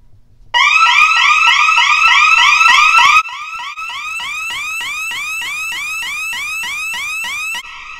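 Loud electronic alarm siren of a home security system triggered by a motion sensor, wailing in rapid repeating sweeps, starting abruptly, then continuing at a slightly lower level for several seconds.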